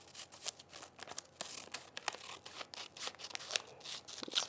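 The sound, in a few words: trimming fabric for embroidery applique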